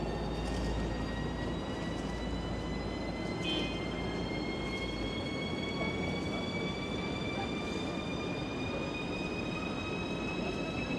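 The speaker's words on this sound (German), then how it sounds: "Der ICE fährt los." An ICE train pulls out of a station, a steady broadband rumble of wheels and motors with rising electric whine tones sustained for the whole stretch, loud and close.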